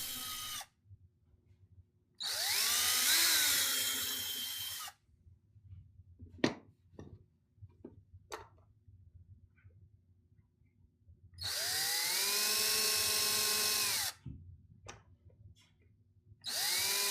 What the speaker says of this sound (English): This is a really small diameter bit, and I'm not drilling very deeply, so it's easy to drill.